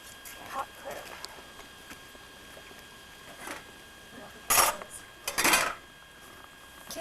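Metal pots and utensils from a camping cook set clatter and clink in a few sharp bursts, with quieter rattling in between, close by and indoors-quiet with no talking.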